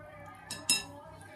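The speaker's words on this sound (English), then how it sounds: "We might actually just use the fork here to tease it off like that." A fork scrapes a soft dollop of food off a kitchen utensil, making two quick metallic clinks close by, the second brighter and louder, over a quiet room hum.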